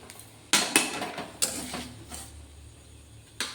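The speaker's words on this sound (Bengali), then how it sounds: "বন্ধুরা, মাছটা সুন্দর সেদ্ধ হয়ে গেছে, আমি গ্যাসটা বন্ধ করে দিচ্ছি।" A gas stove knob clicks and creaks as it is turned off after fish has boiled, giving a few sharp mechanical clicks close by over a low background hum; no talking.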